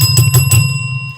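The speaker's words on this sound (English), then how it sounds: "Hit that bell one time." A single bell strike at a street protest march outside the Universal Hip Hop Museum, a bright ringing tone with a slowly fading sustain after the first half second, a hum underneath and a brief noise at the end.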